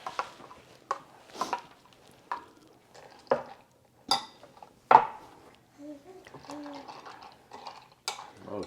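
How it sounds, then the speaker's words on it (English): A dish of white chocolate goes into a microwave with close, sharp clinks and clatters, then a mechanical latch click, in scattered bursts over several seconds. "And we're going to put that in the microwave."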